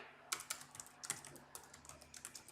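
Irregular keystrokes on a computer keyboard, tapped in short bursts with brief pauses, fairly quiet and close with no voices.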